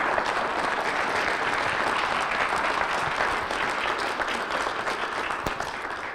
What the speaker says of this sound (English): let's give Devin a round of applause